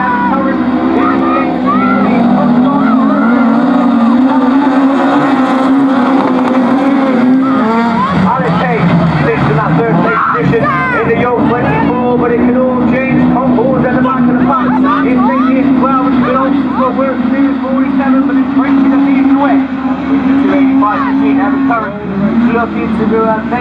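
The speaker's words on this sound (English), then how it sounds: "As the race at the front heats up, Evan Curran" Class 6 autograss race cars racing at a 2016 round, a loud continuous engine drone that rises and falls as the cars accelerate and ease off, close up, under steady commentary.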